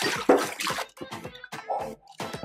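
Ice and warm water are stirred and sloshed in a plastic mixing container, with bursts of clattering, splashing water in uneven strokes close by and brief pauses between.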